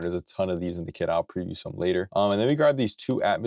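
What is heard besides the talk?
No distinct noise like a dog, phone or traffic.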